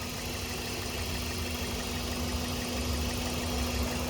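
A Toyota Echo's VVTi engine idles steadily and quietly, a smooth, even hum with a faint steady tone and no revving, heard alone without talk.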